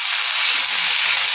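Drumstick (sajna) leaves hit a hot pan and fry with a steady, loud, bright hiss that holds evenly for a moment, close and alone.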